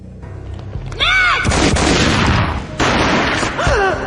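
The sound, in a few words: gunshot in the Max Payne video game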